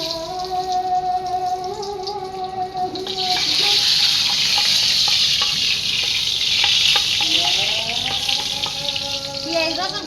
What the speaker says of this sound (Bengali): পেঁয়াজ আর রসুন খুব ভালোভাবে বাগার এসে গেছে